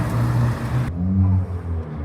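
Turbocharged car engine at a car meet, a steady low rumbling drone with a few swells, fairly close and moderately loud, with no talk over it.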